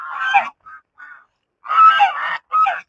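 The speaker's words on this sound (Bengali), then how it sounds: "কত বড় বড় হাঁস এগুলো দেয়" Large ducks at Mukutmanipur give loud, goose-like honks in several separate bursts, some short and some drawn out, close by with silence between the calls.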